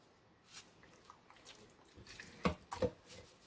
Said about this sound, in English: I'm going to pour some in there.